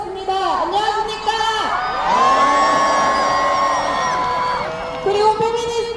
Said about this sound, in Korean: 여성 시민 여러분, 함성 한번 질러보겠습니다